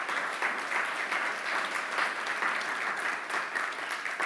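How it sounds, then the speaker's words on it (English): An audience applauds sponsors at the welcome remarks of an event, a steady, dense wash of many hands clapping at once that holds evenly throughout, with no talking. "I think we should give them a round of applause."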